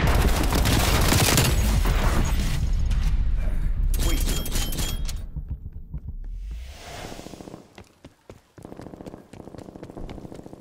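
An incoming artillery strike lands in a Call of Duty Black Ops Cold War multiplayer match, a loud rolling barrage of blasts and crackling debris that thins out into scattered thuds and rattles, with distant rumble trailing off.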